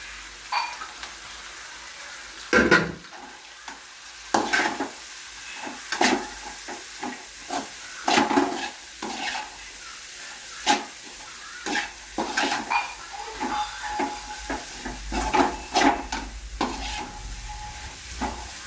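Shredded cabbage and beans stir-fry in oil for fried rice, with a soft sizzling hiss broken by repeated irregular scrapes and clatters of a spatula tossing the vegetables, fairly quiet and close, without speech.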